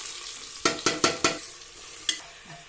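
Onions going into a hot pan for bisibele bath, giving a quick run of four sharp stirring scrapes and sizzles, then a single later stroke, all close and with no talk.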